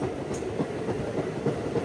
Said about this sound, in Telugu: హైదరాబాద్ లోకల్ ట్రైన్స్ ఇవన్నీ.